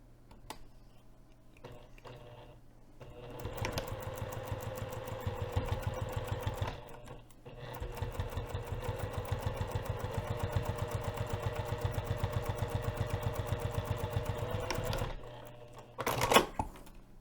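A sewing machine topstitches a hinged zipper pocket on a coin purse, running in long steady bursts of rapid rhythmic clatter with a short pause between runs, close by and alone.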